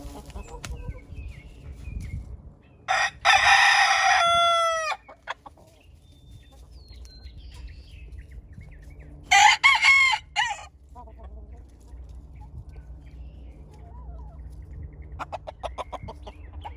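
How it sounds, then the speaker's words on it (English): Roosters crowing in a backyard, two loud, drawn-out cock-a-doodle-doo calls several seconds apart, with soft clucking and quiet ambient noise between them. "The other roosters, although they separated, they still try to keep in touch."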